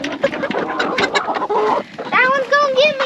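Chickens cluck and squawk at close range, with short harmonic calls rising toward the end, while someone talks over them and then pauses.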